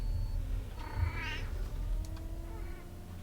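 A cat meows once near the middle, a short rising-falling cry over a steady low bus engine rumble inside a simulated route bus, with a fainter second meow toward the end.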